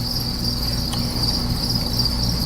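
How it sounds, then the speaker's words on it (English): Crickets kept as reptile food at a zoo chirp in a steady, continuous high trill that sits close and fairly loud over a low background hum, with no voices. "up to the adult crickets"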